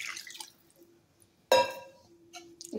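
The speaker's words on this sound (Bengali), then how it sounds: "এবার আমি জল দিয়ে দেবো" Water splashes into a wok of country chicken curry in one short burst of pouring, loud and close, trailing off into a quieter trickle and a couple of soft drips.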